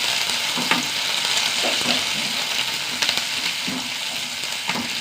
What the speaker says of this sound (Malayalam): പച്ചമുളക് വറ്റൽമുളക് ഒരു മൂന്നാലെണ്ണം കറിവേപ്പില വാരി വിതറക്കാം